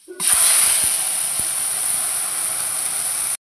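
Lentils tipped into a hot pan for a tempering that would normally use black cumin, bursting into a loud, steady sizzling hiss that starts abruptly, holds for about three seconds, then stops, with a few faint clicks underneath and no talk.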